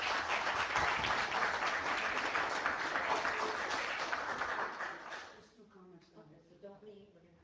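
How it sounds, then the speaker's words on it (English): A room at a council meeting breaks into sustained applause, dense clapping from many hands that holds steady, then thins and fades out near the end. "Ladies and gentlemen, one more round of applause"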